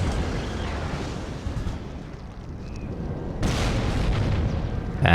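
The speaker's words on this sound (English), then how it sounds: "You guys are seeing our BMP-2s engaging the enemy here." Missile hits and explosions from BMP-2 vehicles in the video game WARNO, a continuous heavy rumbling roar of distant blasts with a sharper burst swelling in partway through.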